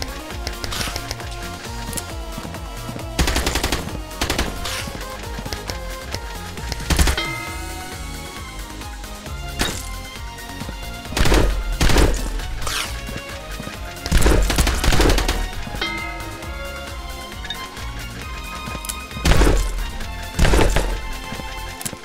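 Rapid-fire weapons blast in the video game Xolta, loud bursts of automatic gunfire coming in repeated clusters with impacts and crashes between them, backed by a continuous game soundtrack.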